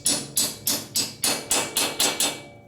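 A hammer strikes a part on a 1972 Harley-Davidson XL Ironhead Sportster bobber during clutch and primary repair, eight sharp, evenly spaced metallic blows ringing loudly and close by with no talk.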